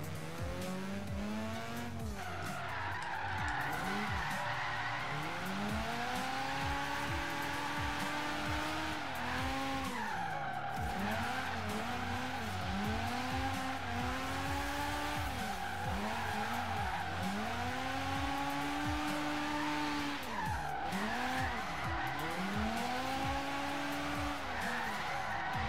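A Mazda RX-7 FD rotary engine in Forza Horizon 3 revs hard and continuously, rising and falling through gear changes with sweeping pitch climbs, loud and close, with tire squeal mixed in and no talking.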